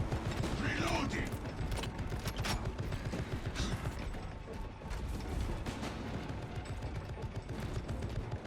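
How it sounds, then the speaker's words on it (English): A weapon reloads in Warhammer 40K Darktide with brief mechanical clacks and ratcheting clicks, set against dense, busy gunfire and combat noise that continues throughout. "Reloading."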